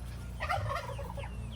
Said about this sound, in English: I heard a turkey.